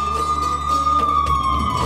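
An ambulance siren arriving at a mansion garden sounds a steady, loud electronic wail that holds a near-constant pitch, with no voices over it.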